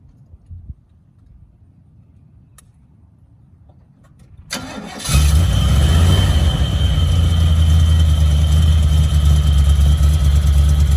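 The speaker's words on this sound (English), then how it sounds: "We're about to start up our 1972 Ferrari Daytona replica based on a C3 Corvette chassis." After a quiet stretch with faint clicks, the engine of a 1972 Ferrari Daytona replica built on a C3 Corvette chassis cranks and roars to life, then settles into a loud, deep, steady idle.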